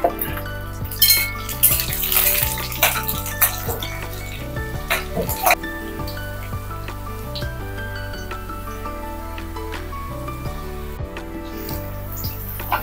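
Mild green chillies fry in hot oil with a steady sizzle, punctuated by spoon scrapes and occasional clinks against the pan, with music playing underneath throughout.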